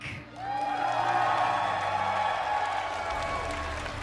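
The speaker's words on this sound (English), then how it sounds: "Please cheer as we bring them to the stage" At a Pokémon video game championship final, a crowd in the arena cheers and applauds as a finalist is brought on stage, a swelling roar of clapping and cheers that holds steady, with a whistle-like tone running through it.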